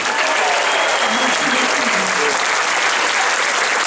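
Loud, sustained applause from a large audience, dense and steady throughout without any break.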